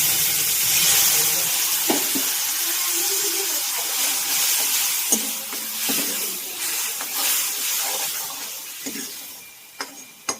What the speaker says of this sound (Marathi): तर याला थोड्या वेळ ना भाजून घ्यायचं तेल सुटेपर्यंत.